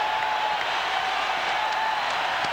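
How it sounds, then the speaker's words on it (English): Arena crowd at a 1994 Warriors vs Suns playoff game in Oakland, roaring continuously at a moderate level as a broad, distant wash of cheering, with faint sharper shouts scattered through it. "And the crowd into it big time now here in Oakland."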